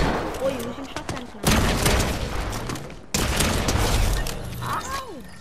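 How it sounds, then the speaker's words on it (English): Shotgun fire in Fortnite, heavy booming blasts in bursts with the battle's clatter between them, under excited talk from players. "Trying to use shotguns now."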